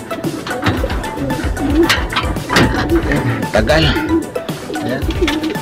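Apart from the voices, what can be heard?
pigeons cooing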